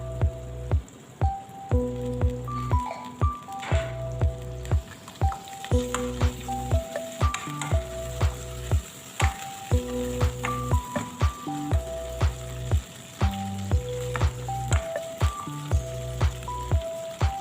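Garlic paste sizzles steadily in a hot frying pan, a close, continuous crackle broken by regular sharp clinks and scrapes of a utensil stirring against the pan.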